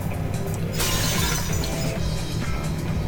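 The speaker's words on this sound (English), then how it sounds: "The sound of breaking glass is accompanied by a light cutting through the gloom." Glass shatters loudly in the Fate/Extra video game, a sharp crash followed by a bright, sustained spray of tinkling shards over a low game rumble.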